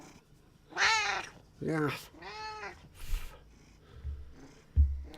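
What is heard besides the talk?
pet cat meowing and purring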